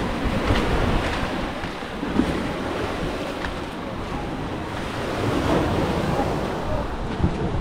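Ocean waves wash onto a beach in Cap Haitien, Haiti, in the early morning, a steady broad roar of surf with gentle swells and some wind buffeting the microphone, no voices.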